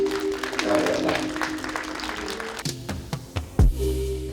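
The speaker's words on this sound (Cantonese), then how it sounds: "我哋再一次俾啲掌聲，Illume Films。" An audience applauds at a Toronto event celebrating Illume Films, a distributor bringing Hong Kong films to North America. Steady clapping runs throughout over a tonal background hum, with a few sharp low thumps near the end.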